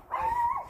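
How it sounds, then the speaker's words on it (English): A neighbors' tiny chihuahua gives a single short, high, whining yip from close by, alone with no talking. "Their dog may not love me, but little tiny chihuahua."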